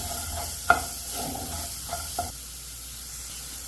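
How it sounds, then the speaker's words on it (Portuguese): Onion, peppers and garlic being sautéed and stirred in a pan, with quiet steady sizzling broken by a few sharp clicks and scrapes of the utensil against the pan. "Vou colocar tudo, deixar dar uma refogadinha boa"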